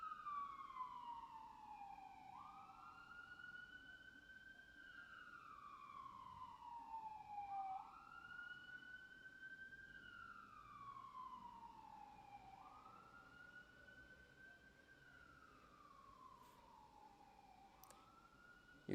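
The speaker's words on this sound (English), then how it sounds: "We'll get to this one as soon as this damn siren passes." An emergency vehicle siren wails in slow rising and falling sweeps as it passes, moderately distant and steady, fading slightly toward the end with low traffic rumble beneath and no voices.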